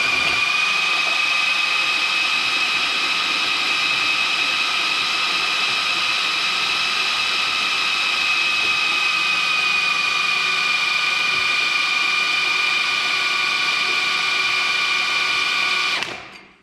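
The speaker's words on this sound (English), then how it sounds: "Clamp it onto the chuck on a drill, and you want to turn it this way" Power drill clamped to a radiator hose spins the drive of an Oliver Hydra Power Drive tractor, a steady high whine with a constant tone held for about sixteen seconds before it winds down.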